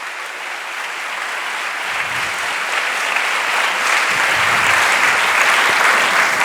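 A church congregation at a Hindi-Urdu sermon bursts into loud, sustained applause, a dense wash of many hands clapping that swells steadily louder and fills the room without any talk over it.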